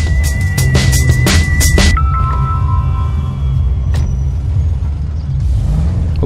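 A car engine in GTA V, a low steady rumble after a flurry of sharp clicks and bursts at the start, with a faint tone shift partway through and no talk.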